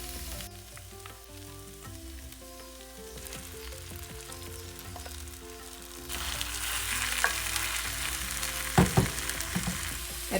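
Beef dropped into a frying pan of sautéed tomato masala for a vindaloo, a low sizzle under background music that jumps to a louder, close crackling hiss with stirring clatter as the meat goes in.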